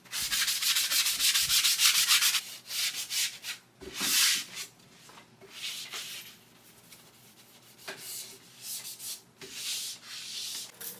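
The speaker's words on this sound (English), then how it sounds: "I used White Lightning and a smaller sponge just to get into all the nooks and crannies" A small sponge soaked in White Lightning cleaner scrubs wooden furniture with rough, rhythmic rubbing strokes that come in bursts with short pauses between, close and clear.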